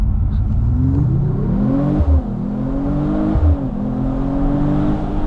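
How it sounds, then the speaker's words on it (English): A 2025 Mercedes-AMG CLE 53 Cabriolet launches with its race start function, its engine revving hard and climbing through the gears with two quick shift breaks, loud and close. "I love the awesome Mercedes race start function."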